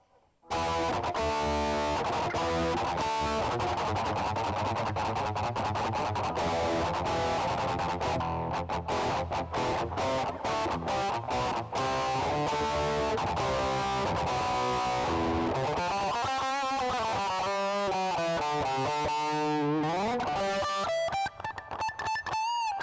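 Electric guitar played through the Boss Metal Zone distortion model on a Zoom G1 processor: heavily saturated chords and riffs, dense and continuous, ending in sliding bent notes, no talking.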